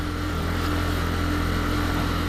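Mutt Superior motorcycle engine running steadily while riding, a loud continuous hum with a low, even drone and no pauses.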